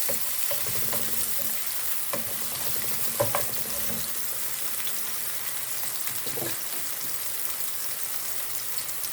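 Chopped red onion sizzles steadily in a hot pan for home-made tacos, a continuous bright crackle with occasional scraping stirs and small pops, close and alone without talk.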